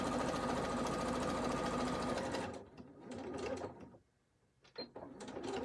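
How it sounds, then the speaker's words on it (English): A sewing machine stitches forward and back along a fabric edge at a quarter-inch seam, running in a loud, steady close burst for a couple of seconds, then stopping, with a few short mechanical clicks afterward. "Needle down, bring it a few stitches forward, back, and I'm doing these at a 1/4 inch."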